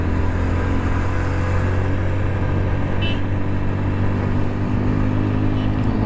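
Car engine droning steadily from inside while overtaking a tempo on a hairpin bend of a hill road in the Kolli Hills, a constant low rumble with no distinct pass-by.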